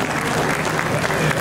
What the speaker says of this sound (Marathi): यानंतर जोरदार आणि खणखणीत टाळ्या देऊया